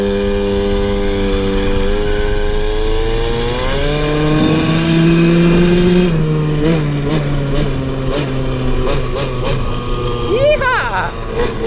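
A KTM 50 dirt bike engine revs up and down, its buzzing two-stroke pitch climbing, holding, then dropping into a run of quick blips, loud and close throughout.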